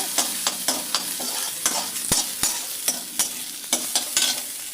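Small shallots sautéing in oil, a continuous close sizzle broken by regular spoon scrapes and taps against the pan as they are stirred, with no voices.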